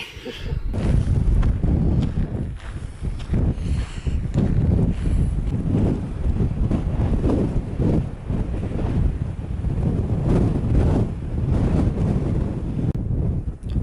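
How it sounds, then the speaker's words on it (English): Steady, heavy wind on an open hilltop along the Pennine Way buffets the microphone throughout, a low roaring rumble with gusty surges and no voices. "it's quite windy up here"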